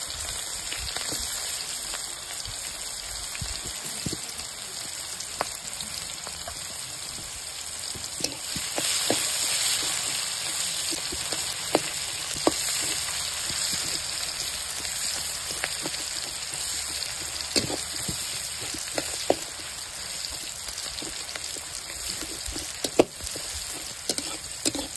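Onions and tomatoes frying together in oil with mustard seeds in a pan for a village-style fish curry, a loud continuous crackling sizzle with scattered pops and occasional stirring scrapes.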